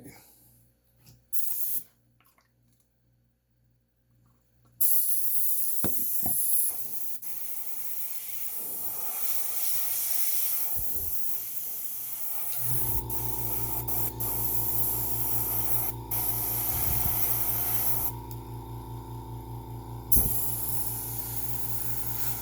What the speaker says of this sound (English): my airbrush, there it is